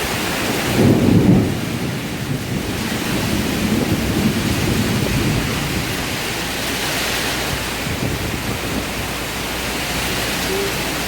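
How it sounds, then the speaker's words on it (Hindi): Heavy rain pours down steadily during a Malaysian thunderstorm with strong wind, and a deep rumble of thunder rolls in near the start under a dense, continuous hiss. "यहाँ पे आप देखें कि किस तरह से ट्रीज़ हिल रहे हैं, इतनी शदीद बारिश थी।"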